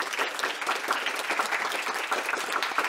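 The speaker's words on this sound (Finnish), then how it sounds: "annetaanko isot aplodit meidän puhujille?" Audience at a panel discussion applauding the speakers, a full, steady wash of clapping from many hands, close and continuous throughout.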